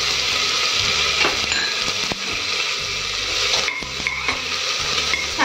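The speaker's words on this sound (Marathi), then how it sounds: "छान परतून घ्यायचा आपल्याला कांदा।" Finely chopped onion frying in a pan with cumin, a pinch of asafoetida and curry leaves for misal pav, giving a steady, close sizzle with stirring scrapes and occasional utensil clinks throughout, no voices.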